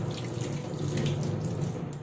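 Tap water running steadily into a sink while hands are washed, a close, continuous splashing hiss with no voices.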